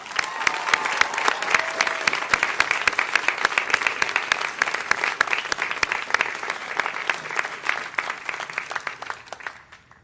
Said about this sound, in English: I want to ask the graduates to join us in a round of applause to honor and thank your